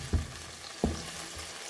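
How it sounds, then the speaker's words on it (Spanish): Chopped garlic, three large cloves' worth, frying in oil in a pan, with a faint steady sizzle broken by two soft stirring scrapes or knocks. "Movimos bien para que coge aceite sabor de ajo"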